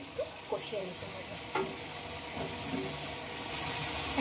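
Spice paste with chili powder sautéing in a pan, a soft continuous sizzle with a few light scrapes and stirs, faint and close, rising slightly toward the end.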